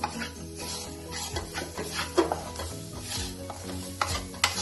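Red chili powder and cumin powder cook in a pan for aloo tikki, stirred steadily with a spoon; repeated scraping strokes run over a low, continuous sizzle, nearby and without any voices.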